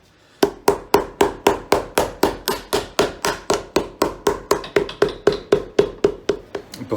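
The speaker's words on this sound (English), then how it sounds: "I'm just going to take my hammer, really nudge it up inside." A hammer taps a metal toe plate onto a shoe steadily and rapidly, about two dozen sharp, evenly spaced strikes up close with no voices.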